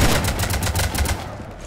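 Rapid automatic gunfire from Mass Effect 3 rakes a ship in a dense, loud burst of repeated shots for about a second, then tapers off into fainter trailing noise.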